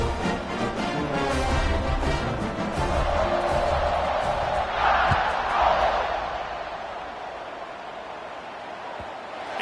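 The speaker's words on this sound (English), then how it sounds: "this crowd is feeling themselves after that last drive" A college football stadium crowd at a Florida at Alabama game roars in a loud, sustained wash of cheering that swells midway and then eases slightly, with no single voice standing out.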